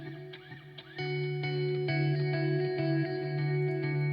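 Sustained rock guitar chords ring out with distortion and a short reverb, struck in a series of steady hits after a quieter opening, with no talking.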